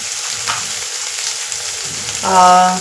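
Red masala paste sizzles and fries steadily in a hot pan for a spicy rassa vada curry, a continuous close crackle with a brief stirring scrape midway and a louder, fuller sizzle burst near the end.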